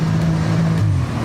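A 2013 Porsche 911 Turbo S drives at its international premiere, a steady, loud low engine drone whose pitch drops slightly near the end, with no talk.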